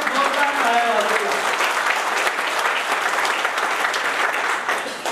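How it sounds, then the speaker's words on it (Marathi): A seminar audience at a goat farming talk in Maharashtra claps loudly together, a dense, steady roar of applause from many hands that holds at full strength for the whole stretch. "एकदा स्वतःवर आणि स्वतःच्या उद्योगावर प्रेम असल्यासारख्या जोरदार टाळ्या वाजवूया."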